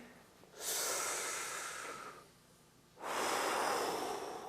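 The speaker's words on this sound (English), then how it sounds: "We're going to like do a deep breath in and a deep breath out." People take a deep breath together, one long audible inhale followed after a short pause by a long, breathy exhale, close and fairly soft.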